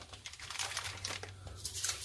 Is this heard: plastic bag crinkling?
yes